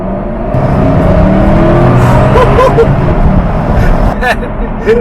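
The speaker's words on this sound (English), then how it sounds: "I'm on a straight road, kind of. I'm just gonna give it." A Jaguar F-Type R supercharged V8 roars and builds steadily as it accelerates on a straight road, loud and close throughout, with a voice speaking briefly over it.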